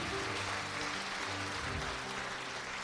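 A church congregation claps at an Easter Sunday worship service after an infant baptism, a steady, dense patter of applause from many hands that holds evenly throughout, with low murmurs beneath.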